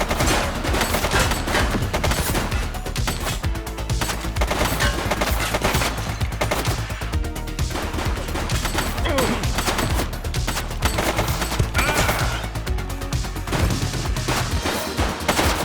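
Dense, sustained gunfire in The Precinct video game as a suspect opens fire, loud rapid bursts layered over music and effects.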